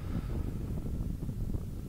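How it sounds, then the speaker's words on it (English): Strong wind blows across the microphone at an outdoor college baseball field, a loud continuous rumble with gusty buffeting and no speech. "That's an indication of how windy it is out here today"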